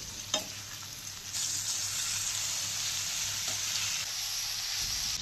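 Drumstick leaves being stirred into a moong dal curry in a pan, a steady wet sizzle and soft scraping running throughout after a brief clink at the start, no speech.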